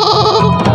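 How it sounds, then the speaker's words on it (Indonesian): A goat-like bleat sounds in a ghost-escape video game, one loud, wavering cry filling the whole short moment on its own. "Kayak kambing ya."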